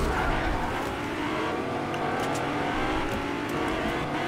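A car driven in the Fortnite video game, with a steady engine roar and tire noise running throughout, loud and continuous with occasional skid-like squeals.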